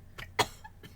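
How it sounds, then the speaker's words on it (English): A single sharp cough bursts out once, close and brief, with a softer breath before it, as someone reacts to a strong shot. "The third one catches in your throat and leaves you coughing."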